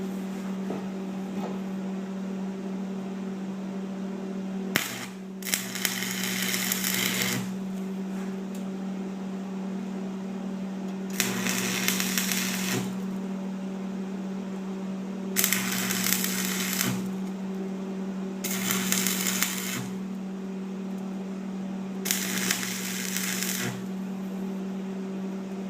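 Bursts of welding on a steel box clamped with C-clamps, five or six roughly one-second crackling buzzes spaced a few seconds apart over a constant steady hum, close and fairly loud.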